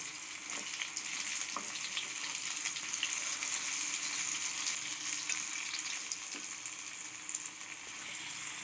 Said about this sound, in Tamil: நம்ம எண்ணெயில் எப்பயுமே பொரிக்கிறப்ப கொஞ்சம் கவனமாகவே போடுங்க